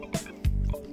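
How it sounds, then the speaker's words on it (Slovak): Water filtered on a bikepacking trip drips and trickles in a few short, soft splashes, with one fuller gurgling pour in the middle, faint and close. "Filtrujeme vodu"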